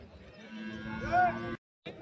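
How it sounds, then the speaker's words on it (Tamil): A native cow lets out one long, loud, close moo at the Bagalur cattle market near Hosur, with faint market bustle around it and a brief silence before the noise resumes. "நல்லா இந்த மாடு வந்து அருமையா இருக்கு"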